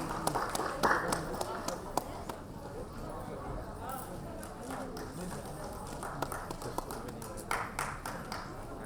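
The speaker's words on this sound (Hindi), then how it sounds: "जोर से तालियां बजाएं।" Audience clapping fills a hall at a Women's Day 2018 gathering, a steady patter of many hands with sharper bursts throughout, while a voice keeps talking over it.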